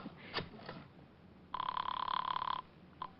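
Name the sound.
telephone ringing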